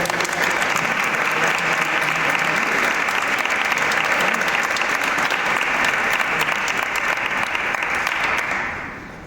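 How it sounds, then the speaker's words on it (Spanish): Sustained audience applause at a talk on Holy Week art, a dense, loud, steady wash of clapping that runs for about nine seconds before tapering at the end. "Vamos a dar un aplauso a Carlos."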